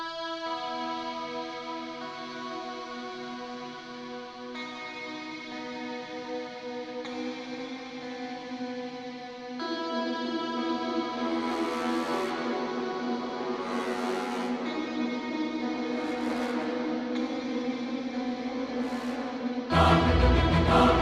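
Atmospheric electric guitar played through effects for film scoring: sustained harmonic chords washing with echo and ambience, growing fuller midway, with bright shimmering swells near the end and no talking.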